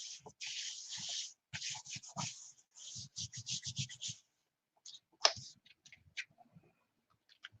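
Fingers rub and press down glued paper edges on a homemade lapbook, a run of close dry scratchy strokes in quick bursts, then a few scattered softer rubs after a pause.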